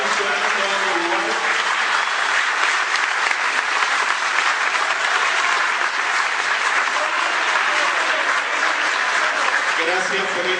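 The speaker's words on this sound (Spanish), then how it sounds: "Gracias por estos aplausos inmerecidos." Sustained audience applause at a political information session on a plant installation, a dense steady wash of clapping filling the whole stretch with faint voices beneath it, tapering slightly near the end.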